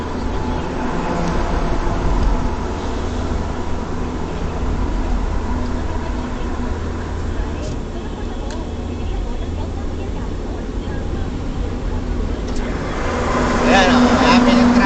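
Heavy highway traffic on the southbound SLEX expressway, with many trucks rumbling past in a continuous broadband roar that swells near the end, with voices talking over it.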